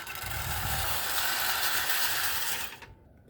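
A Marx Mercury O gauge toy train runs on its track with a steady, close mechanical whir and rattling gear chatter that holds evenly, then cuts off abruptly near the end.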